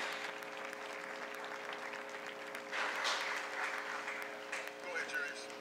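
Crowd applauding and cheering at a high school homecoming night, steady clapping from a large audience heard at a distance, fairly faint, swelling slightly toward the end with scattered shouts and a constant background hum.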